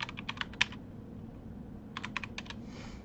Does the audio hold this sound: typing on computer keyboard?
yes